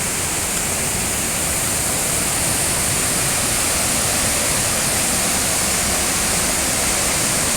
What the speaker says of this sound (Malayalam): ഇനി നമ്മൾ ഉരുളിക്കുണ്ടിലെ ഏറ്റവും വലിയ വെള്ളച്ചാട്ടം കാണാൻ പോവാണ്